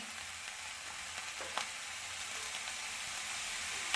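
Chopped onion dropped into a pan of frying vegetables for an onion-stalk dish, a soft, even sizzle with a faint clink, fairly quiet and without talk.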